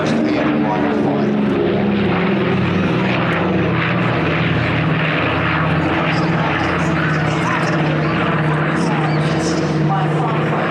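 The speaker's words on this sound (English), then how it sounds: "They are incredible aircraft." Propeller aircraft flying a display at an airshow, its steady engine drone loud and continuous throughout with a rough, broadband roar and no pause.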